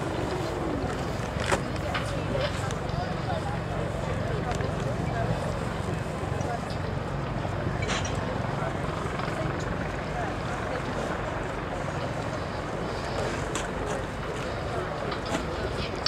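Royal Navy Lynx and Wildcat helicopters in a flying display at Waddington air show: a continuous outdoor rotor and engine roar with a crowd ambience, under an announcer talking over a public address.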